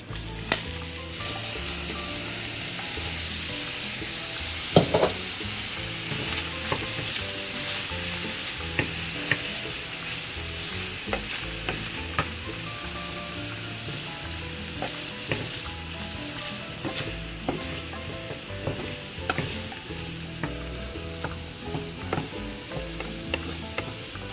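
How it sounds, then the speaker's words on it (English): Already-cooked shrimp sizzle and fry in a pan alongside chicken sausage, a steady loud crackle with occasional stirring clatter throughout, no voices. "now I'm going to toss the shrimp in there, and the shrimp are already cooked, but I'm just going to let them cook a little bit more"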